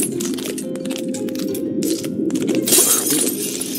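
Glass of a piranha tank shatters in the video game Octodad, a loud crash followed by tinkling, crunching shards that continue for a few seconds, with no voices.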